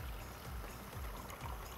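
Water poured into a pot while cooking nihari after ginger, garlic and browned onions, a soft continuous stream with light splashing, heard close and fairly quiet.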